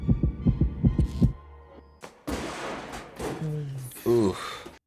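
Rhythmic heartbeat thumps pulse in the background of the 1997 film GATTACA, about five low throbs in steady succession, followed by people talking and reacting.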